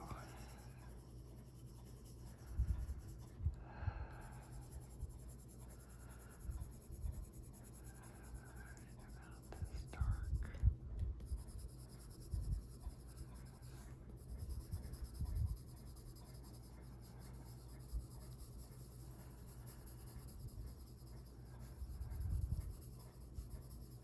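Colored pencil is layered onto paper in quiet, scratchy strokes that come in short intermittent bursts against a soft background hush.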